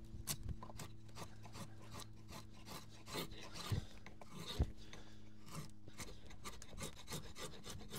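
A carved wooden spoon being smoothed with steady rasping strokes, rhythmic, close and fairly quiet, with no talk.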